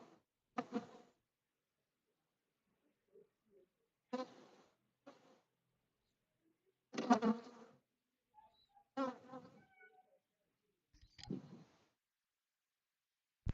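Faint, intermittent buzzing of honey bees flying close by at a hive, short bursts separated by near silence, with a few soft knocks and rustles.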